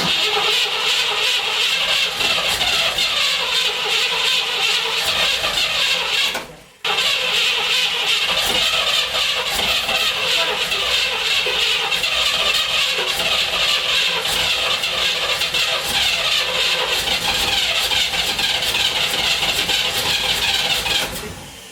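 A 1970 Corvette with an LT-1 V8, fired up for the first time in over twenty years, roars loudly and steadily with a dense, rough engine note, dipping briefly once before running on.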